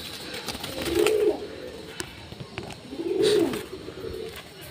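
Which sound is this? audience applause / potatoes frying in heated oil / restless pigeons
restless pigeons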